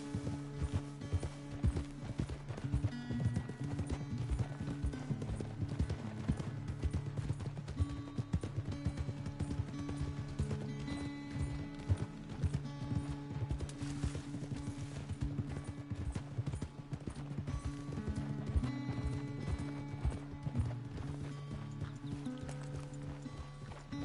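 Horse hooves gallop in the video game Red Dead Redemption 2, a steady, rapid rhythm of clip-clops throughout, moderately loud and continuous, with no talking.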